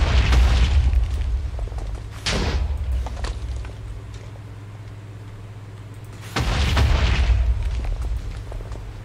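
Explosions from a Wither in the Minecraft modpack Sky Factory 4 land as three deep booming blasts, one at the start, one around two seconds in and a loud one near six seconds, over a low steady game drone.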